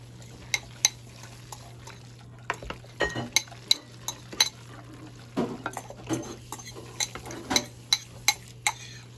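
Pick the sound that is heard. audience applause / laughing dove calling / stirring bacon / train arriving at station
stirring bacon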